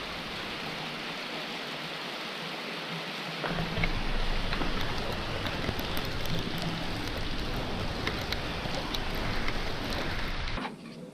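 Steady rain falls on a rainy day on the road to Mu Cang Chai, Vietnam: a dense, even hiss with no breaks, growing slightly heavier partway through and running the whole time without any voices.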